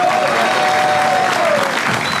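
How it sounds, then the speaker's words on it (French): A theatre audience applauds the performers at a comedy show, dense continuous clapping filling the room at a steady loud level with a faint whistle-like tone running through it. "Je vous demande d'applaudir bien fort nos artistes,"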